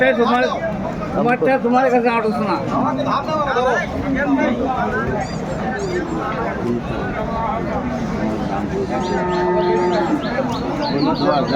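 Dairy cows and calves of improved breeds lowing amid a busy crowd, with several people talking and calling over each other at Aftabganj livestock market in Dinajpur, Bangladesh.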